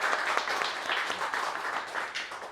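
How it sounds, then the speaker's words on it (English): Audience applause after a demo presentation, a dense steady wash of many hands clapping at moderate distance for the whole stretch. "Claps for you."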